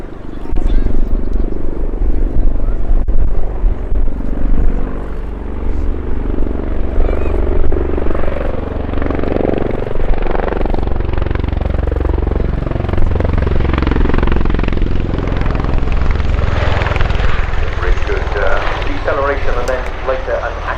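CV-22B Osprey tiltrotor at an airshow transitioning to helicopter mode, a loud continuous roar of rotors and engines with shifting, throbbing tones over about twenty seconds, a commentator's voice talking over it.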